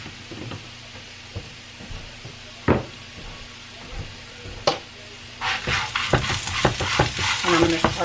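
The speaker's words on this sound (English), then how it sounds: "And I'm going to saute my onions in there for a little bit." Onions being sautéed in oil in a frying pan: a few spoon knocks and stirs at first, then a louder, steady sizzle with scraping strokes building toward the end.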